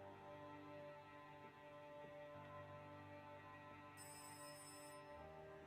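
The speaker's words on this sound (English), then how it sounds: "Do I have to go find that phone while it rings downstairs?" A telephone rings steadily in the horror game Rise of Insanity, a faint, continuous electronic trill with a brighter tone joining near the end, over a low droning ambience.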